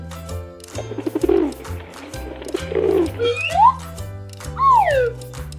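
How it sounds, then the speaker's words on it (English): Pigeon coos come in soft rolling bursts over a rhythmic backing beat, with rising and falling warbled calls near the end, loud and close. "Pigeon. Pigeon."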